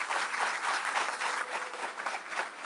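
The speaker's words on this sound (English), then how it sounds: "I want y'all to give them a round of applause" A press conference crowd at Southern University athletics gives steady, even applause throughout, a sustained patter of many hands at moderate distance with no talking.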